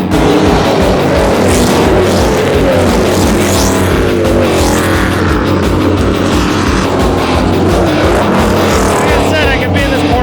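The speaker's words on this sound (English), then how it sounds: "I haven't been 2 feet up close to a stock car NASCAR racing." NASCAR Xfinity stock cars roar past up close at a road course in Portland, a loud, continuous engine blare with shifting pitch as cars brake and accelerate through a corner.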